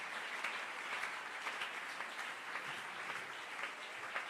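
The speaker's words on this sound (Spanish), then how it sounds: "Fuerte ese aplauso al Señor." A church congregation applauds during a sermon, a steady wash of many hands clapping at a distance, continuous and fairly quiet throughout.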